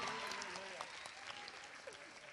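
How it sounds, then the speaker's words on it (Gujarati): A seminar audience at a career guidance event bursts into loud, sustained applause, dense clapping filling the hall for a couple of seconds with some crowd murmur. "જોરદાર તાળી."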